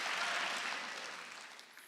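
Congregation clapping hands during a Sunday church service, a dense burst of applause that starts loud and slowly fades out.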